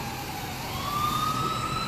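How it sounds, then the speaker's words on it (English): An ambulance siren leaving the emergency area of a hospital sounds as a steady wailing tone that climbs and strengthens as it nears. Behind it runs a constant wash of traffic noise. "you've got an ambulance that is approaching"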